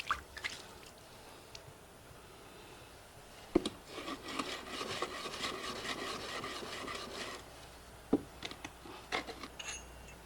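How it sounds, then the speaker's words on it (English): Mixed sand rubbed by hand against a cedar wood block to polish the back of a very thin blade, a soft gritty scraping that builds into steady strokes midway, with a few sharp knocks, fairly quiet and without talk. "Mixed sand is applied to a wooden block made of cedar and used to polish"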